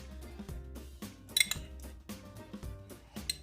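A spoon clinks and scrapes against a bowl while blended almond is added for a homemade almond sugar body scrub, with several soft ringing knocks and clatters, close and fairly quiet, without talk.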